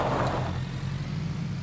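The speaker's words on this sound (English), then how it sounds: "Oh, there's a car." A low, steady engine rumble from a car in the video game PUBG, moderately loud and continuous, with no talking.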